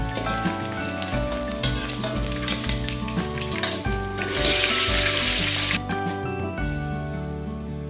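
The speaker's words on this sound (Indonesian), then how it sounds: "saya menggoreng ikan terinya sampai garing ya" Loud, steady sizzling of anchovies frying in hot oil until crisp, a dense crackle and hiss throughout, with a brief stir partway.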